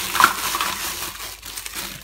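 Plastic packaging crinkling and crushing as rice cooker utensils for an Instant Pot are unwrapped, a close, brief burst of rustling that trails off into quieter handling.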